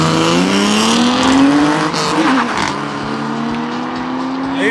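A Mercedes-AMG A45 and a BMW drag racing side by side at the Saldanha Drags strip, engines roaring loud and close with rising revs and a gear change, then easing off.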